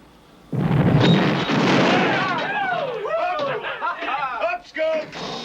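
A torpedo strikes a ship and explodes: a sudden heavy boom opens into a long rumbling roar that rolls on and breaks apart, with voices talking over the tail of the blast.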